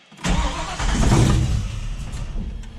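Ford Falcon XB GS engine cranks and catches after a short quiet moment, then settles into a loud, rough, steady running rumble close by; no talking.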